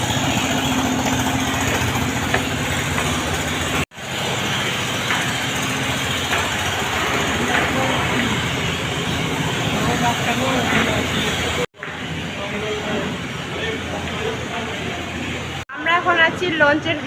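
The engine of the Sundarban passenger launch, a river ferry, droning steadily from inside the vessel as a constant loud hum and vibration, with people talking over it.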